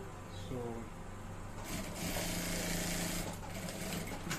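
A sewing machine stitches the shirt pieces together at a half-inch seam in a steady close mechanical whir that grows busier midway, while a person talks over it.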